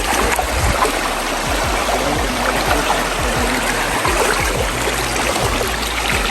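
A clear rural river on farmland flows over rocks, a loud, close, continuous rushing and gurgling of water with no speech.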